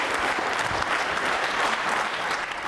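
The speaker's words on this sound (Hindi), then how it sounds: "तालियां बजाइए जोरों के लिए" Applause for a contestant at a quiz show for trainee state civil service officers, a full, dense round of clapping from an indoor audience that stays loud and even throughout.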